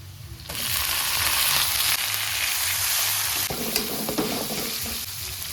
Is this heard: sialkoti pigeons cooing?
no